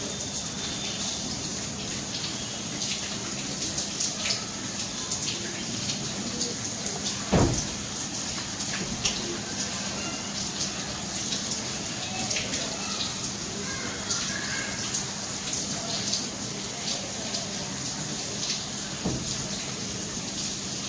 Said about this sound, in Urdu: اب بارش تقریباً رک رہی ہے، چھٹے آ رہے ہیں، چند چھٹے ہیں آ رہے ہیں، لیکن بارش رک رہی ہے اب